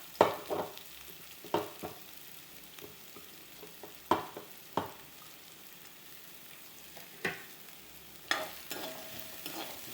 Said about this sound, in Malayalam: ക്യാരറ്റ് ബീൻസ് സവോള വെളുത്തുള്ളി അത് അരിഞ്ഞത് ഒന്ന് മൂപ്പിച്ചെടുക്കാം